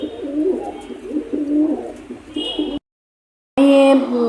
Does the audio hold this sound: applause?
no